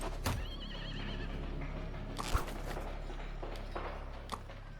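A horse neighs and whinnies in Sherlock Holmes: The Devil's Daughter, with a few hoof thuds and clops against a steady game ambience, fairly near and moderately loud.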